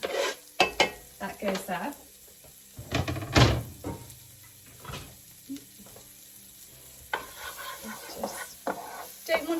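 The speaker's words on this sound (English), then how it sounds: "So the butter is sizzling" Shallots cook in sizzling butter in a pan over medium-high heat, a soft frying hiss under clattering utensils and bumps, with a person talking briefly nearby.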